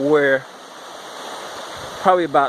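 A creek running high after about 3.5 inches of heavy rain gives off a steady broadband rushing wash throughout, with voices talking briefly at the start and again near the end.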